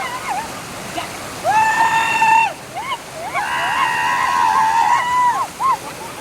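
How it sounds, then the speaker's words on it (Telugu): A waterfall rushes steadily with a constant broad roar, while loud high voices call and shout over it in repeated bursts. "మా కృష్ణ ఎంత జాగ్రత్తగా వాటర్ ఫాల్ మీదకి వెళ్తున్నాడు"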